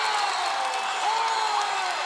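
A crowd cheers and shouts at a men's college basketball conference final, a dense sustained roar with whoops rising over it and a commentator's voice underneath.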